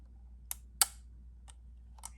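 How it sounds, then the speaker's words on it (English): A few small, crisp mechanical clicks spaced apart in a quiet room, the loudest one a sharp snap from a Yashica Electro 35 GSN rangefinder film camera's quiet shutter. "And that's a shutter sound."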